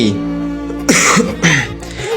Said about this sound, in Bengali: ভাই, আমার তো কাশি আসতেছে।